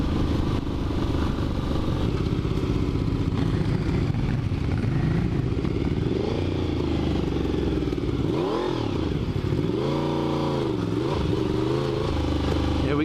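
A custom Ian Fitzgerald Despatch Tracker motorcycle ridden along a lane, its engine droning steadily throughout with revs rising and falling, close and loud, with some rattling clatter.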